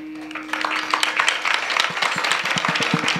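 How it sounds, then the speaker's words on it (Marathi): Audience at a Hari kirtan festival clapping together in a lively, steady rhythm, close and fairly loud, with a held musical tone underneath at the start. "टाळी वाजवायची तर जोरात वाजवा बरं का"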